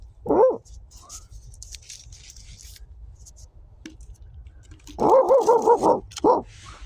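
A dog barks once, then after a quiet pause lets out a quick burst of several barks followed by one more, fairly close.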